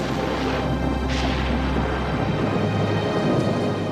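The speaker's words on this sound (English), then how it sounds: "Thunderstorms and torrential rain pervade the tropics and nurture the equatorial rainforests." Tropical thunderstorm with torrential rain: a dense, steady roar of heavy rainfall with low rumbling thunder underneath, continuous and fairly loud throughout.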